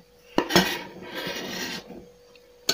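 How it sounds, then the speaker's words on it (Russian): Diced pork is scraped off a board into a bowl for a salad: a clatter of utensil on dish, then a rough scraping slide lasting about a second, ending with a final knock. "Мясо ссыпаем в миску"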